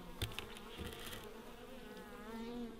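Honeybees buzzing over an opened beehive in the far north during a brood check, a steady, soft, continuous hum with no voices.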